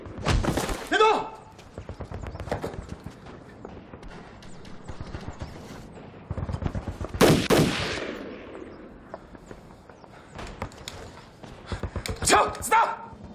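A machine gun fires from a bunker in a war film about the Red Army's forced crossing of the Wujiang River, heard as sharp, loud bursts of gunfire mixed with shouting voices and other battle noise.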